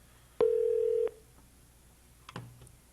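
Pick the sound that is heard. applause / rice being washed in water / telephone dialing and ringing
telephone dialing and ringing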